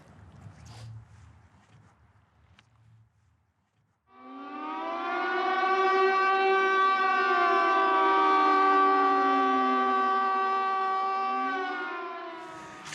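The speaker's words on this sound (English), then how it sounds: "Just got woken up by what we think is a tsunami warning siren." A tsunami warning siren near a riverside campsite starts abruptly after a few quiet seconds and holds one long, loud, droning wail, its pitch swaying slightly before it fades.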